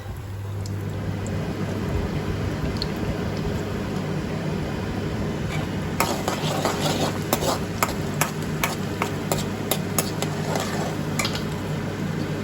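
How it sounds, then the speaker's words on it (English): A steady broadband whoosh of a kitchen exhaust hood runs throughout, with a low hum, while faint clinks and scrapes of utensils come and go. "sorry for the background noise, that is just my chimney."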